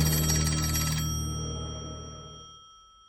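A telephone bell rings once loudly with a metallic tone that then decays slowly into silence, alone with no talk.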